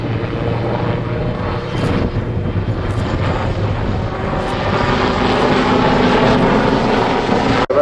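Westland Lynx helicopter flying an aerobatic display loop, a loud continuous rotor and turbine roar that rises steadily as it climbs and pushes over the top, with no talk over it.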